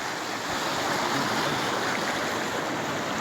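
A creek runs along its bank in a steady, close rush of water, a broad continuous hiss that never lets up, with no voices over it.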